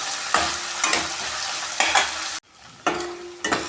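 Chopped onions being fried and stirred in a pan for Punjabi-style chana dal, a steady sizzle broken by repeated scraping strokes of a spoon at a regular pace, close and fairly loud, with a brief drop in the sizzle partway through.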